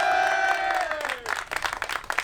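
An audience at the Cantal Motor Show 2021 awards ceremony applauds a trophy winner: a sliding tonal sweep fades into a burst of many hands clapping, fairly loud and close, trailing into scattered claps.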